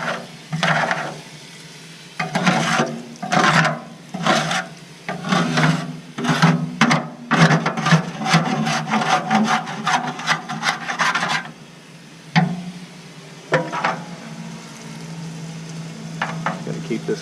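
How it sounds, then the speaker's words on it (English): A metal scraper drags repeatedly across heavy residue inside an Old Country Pecos smoker, loud rhythmic rasping strokes in quick bursts, slowing to a few scattered scrapes near the end. "I'm just going to scrape all the heavy stuff here"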